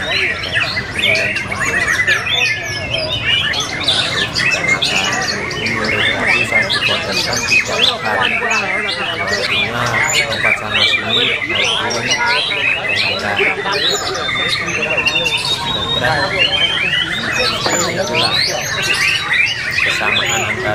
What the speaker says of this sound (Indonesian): burung murai batu berkicau